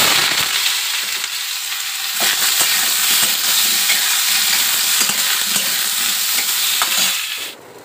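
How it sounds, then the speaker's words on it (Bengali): Pointed gourd pieces fry in hot oil, a loud, dense sizzle and crackle that runs steadily for several seconds with scattered pops, then cuts off abruptly at the end. "চলো গরম তেলে আগে পটলগুলো ভেজে নিই।"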